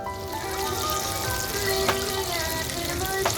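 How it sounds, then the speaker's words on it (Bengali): Pakoras frying in oil at a picnic, a steady close crackling sizzle that continues without a break, with faint background noise and no clear talk. "চলছে পকোড়া ভাজা"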